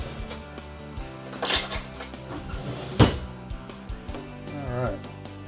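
A spoon knocks and clinks against a pot of boiling homemade spaghetti, with a few metallic clinks and one louder clank close by over a continuous background hum, and a voice talks in between.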